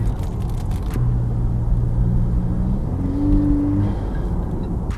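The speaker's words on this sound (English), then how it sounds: "I love the sound of this car with the intake on it." Loud car engine with an aftermarket intake rumbling from inside the cabin, rising in pitch as it accelerates with a throaty intake growl, steady and close.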